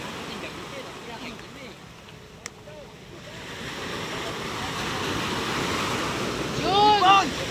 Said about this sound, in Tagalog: inabot tayo ng alon dito